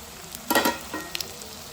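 Ginger paste frying in a pan for methi pulusu, a short crackling sizzle that swells briefly and fades, with a couple of small stirring clicks after.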